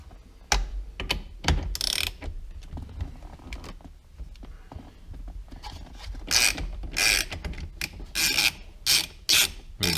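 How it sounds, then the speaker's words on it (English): Ratchet clicking while loosening the steering wheel bolt on a Porsche 944, in irregular bursts of sharp metallic clicks and scrapes, close and fairly loud, with no talking. "Move the bolt holding the steering wheel on."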